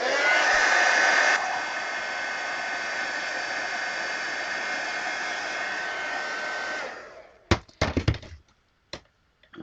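A hair dryer blows steadily on wet paint for about seven seconds, a loud, close, even whooshing drone that drops slightly partway through, then cuts off, followed by a few sharp knocks and clicks.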